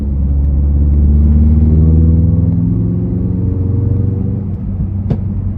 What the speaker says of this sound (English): see if I can show you guys this fake engine noise